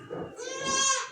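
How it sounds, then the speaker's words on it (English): A young goat on a farm gives a single drawn-out, wavering bleat lasting about a second, close and moderately loud, with soft background noise before it. "Oh, Thundergirl, you are a good little goat too, aren't you?"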